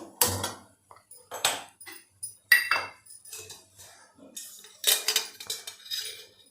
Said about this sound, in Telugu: ముందుగా నాన్ స్టిక్ కళాయి ఒకటి తీసుకొని స్టవ్ వెలిగించుకోవాలి.